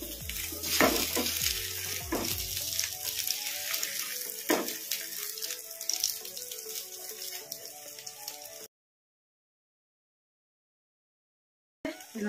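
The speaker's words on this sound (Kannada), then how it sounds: "ಇನ್ನು ಒಂದು ಎರಡು ನಿಮಿಷ ಫ್ರೈ ಮಾಡಿಕೊಂಡು ಪ್ಲೇಟಿಗೆ ತಕ್ಕೊಂಬಿಡೋಣ" Omelette bonda frying in hot oil, a steady close crackling sizzle with a few stirring clunks. It cuts to silence partway through, and the sizzle briefly returns at the end.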